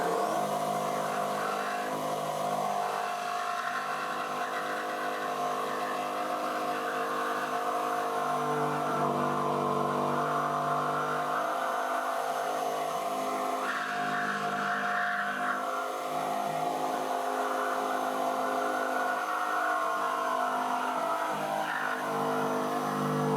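Narrow-blade power saw cuts out a side panel on a Ram Promaster 118 wheelbase van, a steady close whining buzz that runs the whole time, shifting pitch and loudness as the cut moves through the metal, with no talk.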